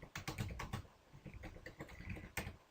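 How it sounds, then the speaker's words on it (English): Rapid typing on a computer keyboard, close and clear, with a quick irregular run of key clicks and a firmer keystroke near the end. "typing your answer."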